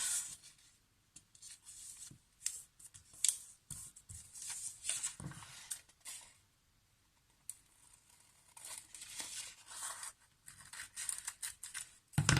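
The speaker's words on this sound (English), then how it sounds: "I cut the excess off." Scissors cut excess paper off a file folder in short snipping and scraping bursts, close and quiet, with brief pauses between cuts.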